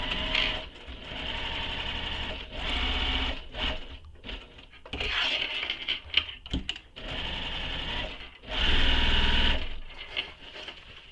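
A sewing machine stitches the sides of a handmade backpack in several bursts of rapid, rhythmic whirring, close by, broken up by short pauses and soft handling noises.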